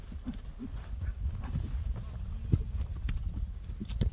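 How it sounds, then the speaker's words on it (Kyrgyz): Hooves of a strong bay horse with a white blaze clip-clop as it is led about, a loose irregular stream of thuds under someone speaking nearby. "Мына атты көрүңүздөр туугандар."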